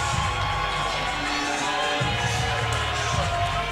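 An MMA arena crowd cheers and whoops for a fighter's entrance, a loud sustained roar of many voices with scattered shouts, while a commentator talks over it.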